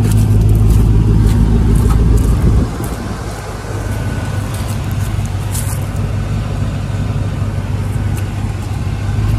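A truck engine runs close by, a loud, steady low rumble that drops in level a few seconds in and then holds at an even drone through the rest.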